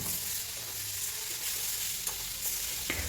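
Pre-fried tomatoes and chopped coriander leaves are stirred into hot oil for a small-fish curry, a steady close sizzle with occasional soft scrapes of the spatula.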